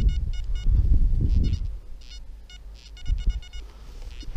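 Metal detector signal tones ring out in short repeated beeping bursts near a bean-shaped find in soil, over low rumbling handling noise with no talk.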